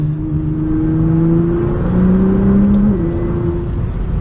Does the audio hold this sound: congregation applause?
no